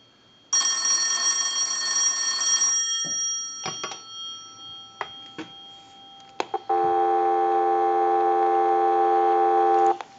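A Western Electric 202 telephone with a 684-A bell box gives one last loud two-second ring burst, then a few clicks and pulses from the line, then a steady, loud, continuous dial tone to the end.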